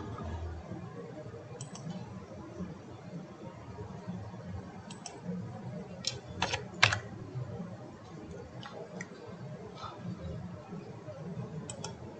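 Light keys click on a computer keyboard while a value is entered in Solidworks CAD software, brief scattered taps and a quick cluster of strokes over a faint background hum, fairly quiet and close.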